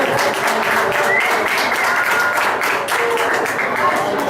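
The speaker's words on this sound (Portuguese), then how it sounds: "Uma salva de palmas para Kurt Warner aí" Dense applause from a lecture audience, loud and continuous throughout, a steady wash of many hands clapping close by with no talk over it.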